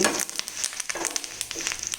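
Dried red chillies frying in hot oil as a tempering for pulihora mango pickle, a close, steady crackling sizzle with scattered sharp pops and some stirring scrapes, no talk.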